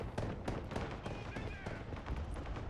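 Airstrike explosions in the real-time strategy video game Broken Arrow: a series of sharp, rapid blasts and crackling impacts under continuous battle noise, with a voice talking over them.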